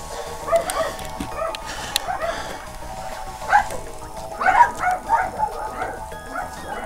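Several dogs bark and yip at a distance outside, in scattered bursts with a few whimpers, fairly faint behind the room while a video game plays.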